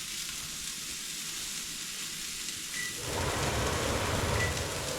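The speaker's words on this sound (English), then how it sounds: "I am putting this in the pan dry because there is a lot of bacon and fat in this sausage" Canada goose breakfast sausage with bacon and fat frying in a dry pan: a steady, dense sizzle that grows noticeably louder and crackles more about halfway through, close up and continuous with no talking.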